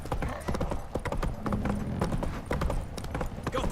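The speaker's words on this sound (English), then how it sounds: "Giddy up." Horse hooves gallop in The Witcher 3 video game, a rapid, even clip-clop rhythm close up and continuous throughout.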